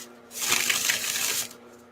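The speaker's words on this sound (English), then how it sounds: "I'm gonna do this shuffle for" Tarot cards shuffled by hand in a quick riffling burst of papery flutter lasting over a second, fairly close and alone, with a quiet pause before and after.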